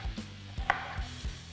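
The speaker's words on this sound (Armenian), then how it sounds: "պետք է առաջին հերթին մանր, կիսալուսնաձև կտրատել սոխը, հնարավորինս բարակ ենք կտրատում" Knife chopping an onion thinly into half-moons on a board, a few sharp cuts spaced about every half second with a brighter clack near the middle, close and fairly quiet, no talking.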